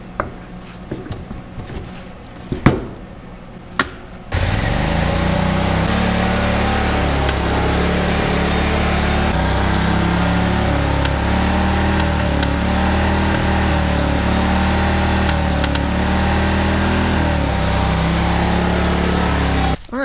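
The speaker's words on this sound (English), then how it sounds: "That is a running, driving lawn tractor." A riding lawn tractor being repaired after a bent spindle was straightened starts with a few clanks, then its small engine runs steadily and loudly close by, a constant rumble with no one talking.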